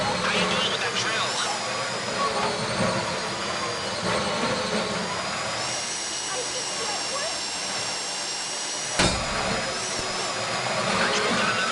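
A power drill grinds into a box during a heist in GTA V with a loud, continuous whining hiss and a few mechanical clunks, while voices talk over it.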